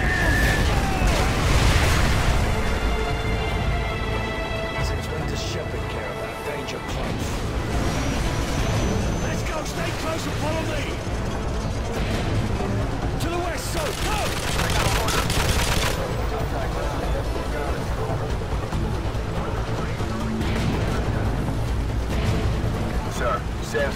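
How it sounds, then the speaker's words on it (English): Danger-close airstrike fire mission in Call of Duty MW2, heavy booming explosions and rolling gunfire filling a dense battlefield din, with voices talking over the chaos throughout. "Fire mission. Target package Romeo. Danger close."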